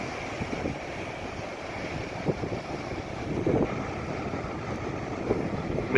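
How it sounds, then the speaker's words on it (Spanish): Ocean waves crash against rocks on the coast at Point Lobos near Seaside, California, giving a steady broadband wash with a few louder surges, mixed with wind buffeting the microphone. "Miren las espectaculares olas que chocan con las rocas"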